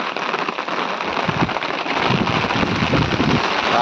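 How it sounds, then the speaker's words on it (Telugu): Heavy rain pours down steadily, a dense, loud hiss with scattered sharper drops and spatters, no voices. "దారుణమైన వర్షం అనమాట"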